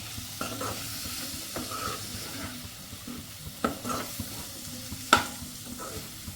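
A frying pan of tomato, coriander leaves and spice powders being stirred, a steady sizzle with scraping strokes of the spoon and a few sharper knocks against the pan, close and with no talking.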